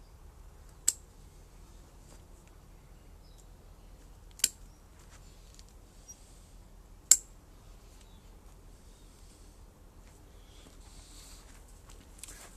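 Scissors trimming away the lower growth of a Premna bonsai: three sharp, isolated snips spaced a few seconds apart, close and crisp against a quiet background.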